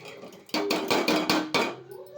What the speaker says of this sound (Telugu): మనం ఒక రెండు టమోటాలు అలాగే ఒక నాలుగు పచ్చిమిర్చి అలాగే ఉల్లిపాయలు ఇందులో వేసేసేయాలండి